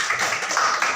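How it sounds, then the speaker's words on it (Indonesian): Classmates give a quick burst of applause in a classroom, a dense, close wash of many hands clapping at once, with no talking. "Tepuk tangan buat teman kami si Melvin dulu."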